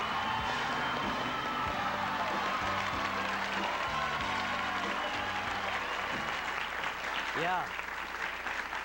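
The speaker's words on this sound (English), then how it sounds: "Crowd gave her a tremendous hand." A TV studio audience applauds Linda Dano's Emmy win, sustained dense clapping and cheering that stays loud under a short spoken word and some background music.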